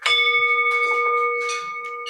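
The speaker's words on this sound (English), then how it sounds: "now that I have exercised the power of ringing the bell" A single bell is struck to open a Rotary Club of Chicago meeting, one bright ringing strike with steady sustained tones fading slowly, clear and close.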